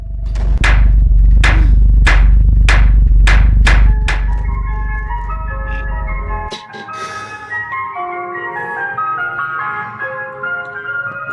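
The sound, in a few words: ice cream van outside the house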